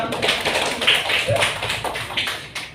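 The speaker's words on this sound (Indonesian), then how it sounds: "Tepuk tangan untuk siapa?" A class in an elementary school claps together in a quick, dense burst of applause that carries on for a few seconds, loud and close.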